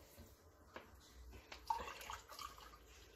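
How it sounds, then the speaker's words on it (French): Water poured from a measure into a pot of rice being prepared for Nigerian jollof rice, heard as faint, quiet splashes and trickles with a few soft pours and drips, no talking. "donc nous allons rajouter de l'eau"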